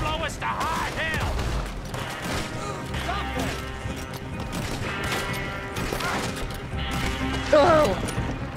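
Red Dead Redemption 2 combat crackles with scattered gunshots and crashing impacts during a chaotic fight in Van Horn, set under music and frantic shouting voices.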